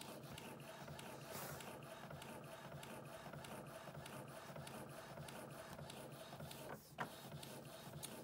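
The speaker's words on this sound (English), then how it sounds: "But as you see, guys, it's printing." An Epson EcoTank printer prints a photo sent from an iPhone, giving a steady mechanical whir and rattle of the print head and feed that runs throughout, with a brief clunk near the end.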